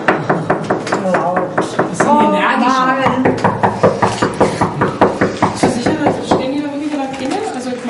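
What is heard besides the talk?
knocking on an office door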